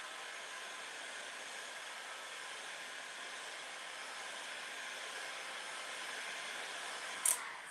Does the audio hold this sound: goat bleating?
no